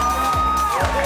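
A crowd cheers and whoops for a contestant walking out at a bogan beauty show, loud, close and continuous across the whole moment.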